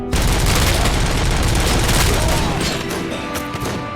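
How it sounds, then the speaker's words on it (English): Dense, sustained gunfire rattles close by in RoboCop: Rogue City, a continuous barrage of rapid shots for several seconds before thinning toward the end. "Who's shooting me in the back?"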